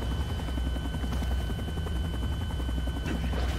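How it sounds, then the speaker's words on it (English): A helicopter in the Resident Evil 6 video game makes steady, loud rotor chop and engine drone that runs without a break, with a faint swell near the end and no voices. "This is a surprisingly quiet helicopter all around."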